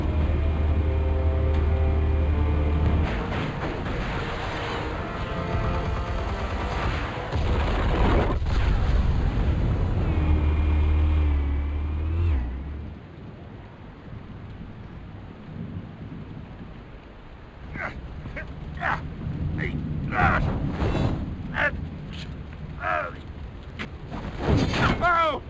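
Explosives detonate in The Batman Telltale video game as loud, deep, rumbling blasts that roll on for several seconds, then fade into quieter crackling debris and rumble, with voices heard.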